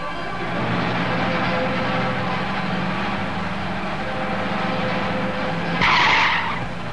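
In a 1958 Hungarian film, a car skids and brakes near a child, a sustained rough screech of tyres over engine noise that ends in a sharp, louder burst.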